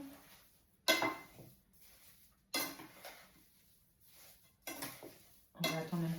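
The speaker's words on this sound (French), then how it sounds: "Je mélange." A spoon scrapes and clinks against a pot while Christmas pear jam mixed with sugar is stirred, in several short bursts separated by quiet pauses, close and fairly soft.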